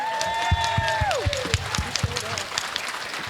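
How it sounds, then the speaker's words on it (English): An audience at a spring milestone celebration for college students breaks into a burst of applause, with dense clapping that tapers off within a few seconds and voices calling out over it. "So if we can go ahead and give a round of applause for ourselves for making it here today."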